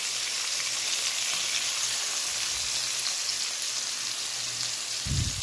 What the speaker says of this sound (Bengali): এবার ভোলা মাছগুলিকে ভেজে তুলব।